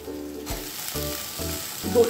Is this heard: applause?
no